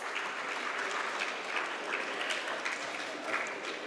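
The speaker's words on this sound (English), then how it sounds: "Give them a big applause." Applause at a design conference in Vijayawada, a sustained, moderately distant wash of many hands clapping with slight rises and dips, steady throughout with no speech.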